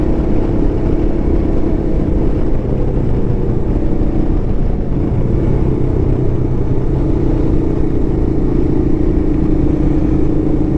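A Royal Enfield Himalayan motorcycle rides slowly along twisty mountain roads, its engine a loud, steady, close drone mixed with wind rumble throughout, with no talking.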